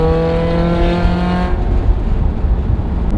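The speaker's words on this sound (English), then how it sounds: "The upper RPMs is really where this thing sings." A Ferrari engine screams at high RPM, a loud harmonic howl that climbs and then cuts off sharply, dropping to a rough, lower idle rumble.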